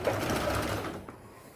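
Sewing machine stitching along a folded fabric edge to attach piping to blouse cloth; a steady close mechanical whir of rapid stitches that slows and fades near the end.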